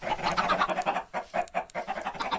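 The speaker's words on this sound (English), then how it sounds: "welcome to the loud chicken exhibit" Chickens in a dinosaur park video game cluck in a quick, choppy chatter of short nasal calls, fairly close, with brief gaps between bursts.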